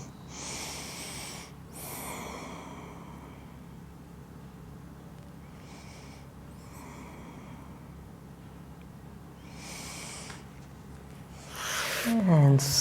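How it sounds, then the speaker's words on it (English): During a Pilates class, slow deep breaths in and out, soft and close, with long airy exhales spaced a few seconds apart, then a brief louder rustle at the end. "A few deep breaths here."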